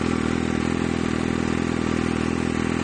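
Kawasaki Ninja ZX6R 636 sport bike idling with an M4GP slip-on exhaust, a steady, loud, close low rumble that holds even for the whole stretch with no revving.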